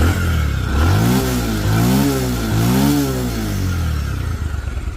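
A Bajaj Pulsar motorcycle engine starts and revs several times. The rising and falling revs are loud and close, settling back to a throbbing idle between them.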